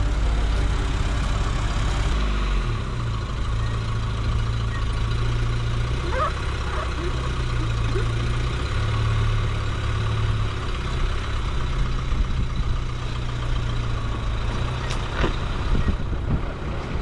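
A Suzuki Samurai engine drones steadily while the vehicle drives, a loud, continuous low rumble with shifting pitch and occasional rattles from the cabin.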